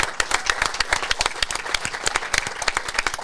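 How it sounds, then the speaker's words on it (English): A theater audience applauds in a dense burst of many overlapping hand claps. The sound is sustained and moderately loud, with individual sharp claps standing out, and no voices are heard over it. "Let's give them a big round of applause."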